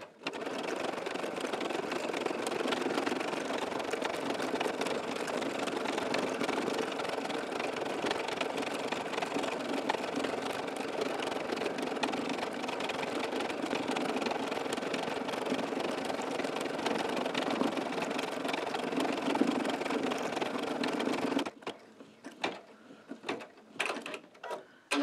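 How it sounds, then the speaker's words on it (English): An embroidery sewing machine stitching a rope bowl, a fast steady mechanical chatter of the needle running nonstop for about twenty seconds, close and even, then it halts and leaves a few brief clicks and taps. "I'm going to raise the needle and go back again"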